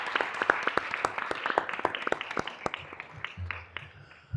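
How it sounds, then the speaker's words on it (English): Audience at a county board meeting giving a round of applause, scattered individual claps at moderate distance, thinning out toward the end with a low murmur underneath. "another round of applause for our Metro Park system."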